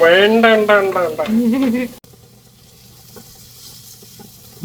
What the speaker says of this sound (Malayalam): ഉള്ളി വെന്തുകൊണ്ടിരിക്കുന്നു വഴണ്ട് വരുന്നുണ്ട്